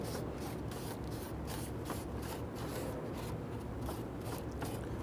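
Rag wiping across the intake manifold gasket surface of a 2011-2017 Nissan Quest 3.5L V6, a steady close rubbing and scrubbing texture with repeated strokes, no voices.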